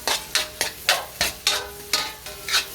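Onions are stirred in a sizzling frying pan, with about nine sharp scraping strokes in an uneven rhythm over a soft, steady sizzle, heard close up and fairly quiet.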